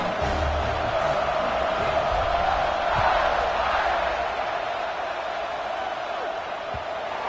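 A large stadium crowd at a college football game in NCAA 25 keeps up a continuous, dense roar of cheering and shouting at a steady, moderate level, with no one speaking in the foreground.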